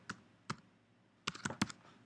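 CAPTCHA characters are typed on a computer keyboard as a handful of sharp, close keystrokes: two isolated taps, then a quick cluster of four or five clicks after a pause.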